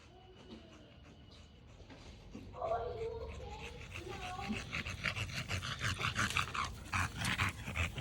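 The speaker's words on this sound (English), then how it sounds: "She's such a good dog, man." A dog pants and whimpers close by, its breathing growing louder and busier in the second half, with someone talking over parts of it.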